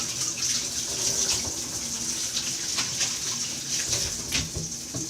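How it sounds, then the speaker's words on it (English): Running tap water pours steadily into a kitchen sink while egg-covered hands are washed, a continuous bright hiss with slight splashing variations, close and fairly loud with no talking. "Now keep your eye on that while I wash my hands real quick because I've got eggs on them"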